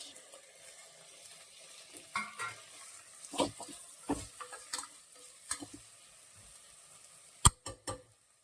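Potatoes and peas fry with coriander in a home-kitchen pan while a spoon stirs them: soft, sparse scraping strokes and light taps over a faint background sizzle, quiet and close.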